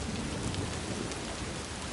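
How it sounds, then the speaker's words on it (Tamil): Rain falls steadily in the video game Death Stranding 2 as a dense, even wash of drops hitting the ground, with no voices over it. "ஆஹா, மழை பெய்யுதே."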